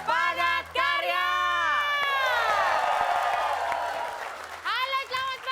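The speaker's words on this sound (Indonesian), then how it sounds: "Tepukan yang paling meriah untuk Padat Karya." A live stage show audience breaks into loud cheering and applause, with shouts and whoops from the crowd rising over a steady wash of clapping that fades slightly before swelling again.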